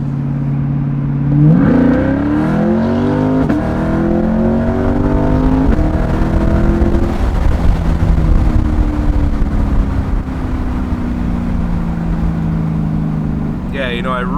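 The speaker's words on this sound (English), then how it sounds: "I really love the sound of this car." A Chevrolet Corvette C8 sports car engine revs hard at a track day, its droning pitch climbing steadily as it accelerates, then settling into a sustained loud roar.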